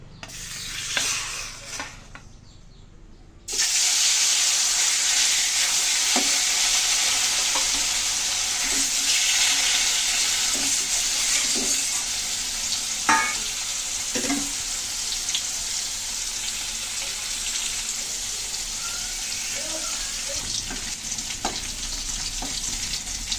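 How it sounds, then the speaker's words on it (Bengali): Small puti fish drop into hot oil in a wok and burst into a loud, continuous sizzle after a brief quieter start, with occasional clinks of the utensil over the steady frying hiss. "মাছগুলো ভাজার জন্য কড়াইতে তেল নিয়েছি দেখুন তেল গরম হয়ে গেছে এখন আমি মাছ দিয়ে দিচ্ছি"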